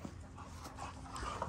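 Several dogs pant and whimper softly before being fed, a faint, close stretch of quick breathing with small whining sounds and no talking.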